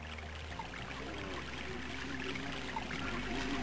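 Flowing river water in the video game Albion, a soft, continuous rushing stream at moderate distance with a low steady hum beneath, no talking.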